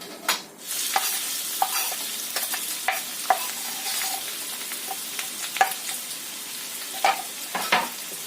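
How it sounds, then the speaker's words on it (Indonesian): Chopped onion and garlic sizzle steadily in hot oil, with occasional clinks and scrapes of a utensil stirring the pan. "Ini kita tumis dulu bawang bombay dan bawang putihnya."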